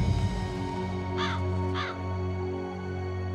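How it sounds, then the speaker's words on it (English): A crow in the video game Dreamfall Chapters gives two hoarse caws about half a second apart over a steady droning ambient game soundtrack. "It's Crow"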